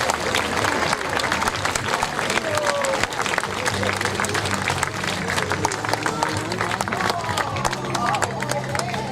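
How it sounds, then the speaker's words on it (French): Outdoor audience at a costume parade podium in Chanaz clapping for a costumed participant, a busy, continuous patter of hands mixed with crowd murmur and voices, moderately loud throughout. "On peut l'applaudir bien fort, Christine."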